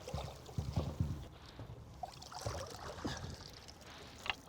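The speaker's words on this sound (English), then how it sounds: "Oh man, he is drumming hard." A hooked black drum fish drums underwater, giving a quick run of three low, deep thumps close together, then fainter scattered knocks over a watery background wash.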